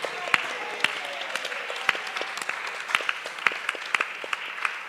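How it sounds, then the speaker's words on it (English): Audience applause at an international yoga festival, a steady patter of many hands clapping at moderate distance, with sharper individual claps standing out throughout. "let's give a round of applause for them"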